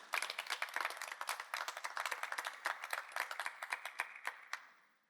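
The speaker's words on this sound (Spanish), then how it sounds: "¿Por qué no le das ese aplauso fuerte al Señor?" A church congregation claps for the Lord, a small group of distinct, sharp hand claps in quick uneven bursts that thin out and fade away at the end, with no one speaking.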